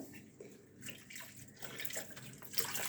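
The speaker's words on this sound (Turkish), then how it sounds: "Sütümüzü de döküyoruz." Milk pours steadily into a pot for homemade kashar cheese, a continuous splashing, liquid rush that grows a little fuller toward the end, close and moderately loud.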